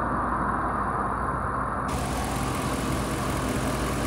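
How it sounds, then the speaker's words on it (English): A 2010 Ford F-150 XL pickup with a 4.6 Triton engine idles smoothly, a steady low rumble holding even for the whole stretch, with no one talking. "engine. Idling nice and smooth."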